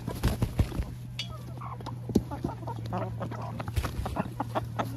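A rooster and hens cluck and peck while being fed, giving close, busy, irregular clucks and soft calls over a low steady hum, with little talk.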